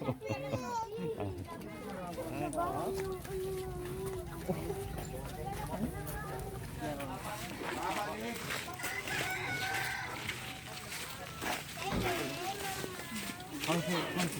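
Chickens cluck and crow around a home during a food-sharing day, mixed with children playing and adults talking throughout, the fowl calls fairly close amid the chatter.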